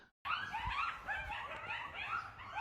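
Dogs giving high, wavering yelping cries in quick succession, fairly faint and without any talking.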